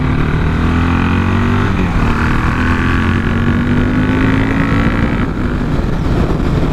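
A motorcycle engine roars steadily up close with constant wind rush, its pitch climbing gradually as the bike accelerates to overtake another vehicle.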